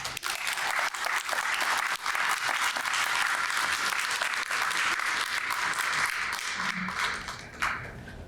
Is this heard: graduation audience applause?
yes